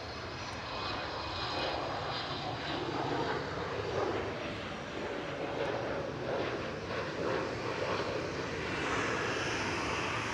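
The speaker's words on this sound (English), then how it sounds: "German Airways E190." A German Airways Embraer E190 jet at Schiphol Amsterdam gives a continuous, fairly distant engine rumble and rush that stays even throughout, with no voices over it.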